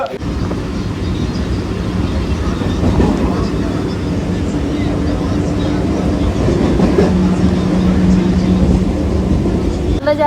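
A suburban train on the run to Baruipur rumbles steadily and loudly close by, with continuous rail noise and a faint clatter throughout.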